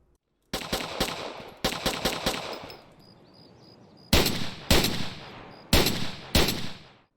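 Pistol gunfire in the shooter game Roa, a close, loud run of sharp shots in quick bursts of three to four, then single heavier reports spaced about half a second apart, with brief ringing tails between groups.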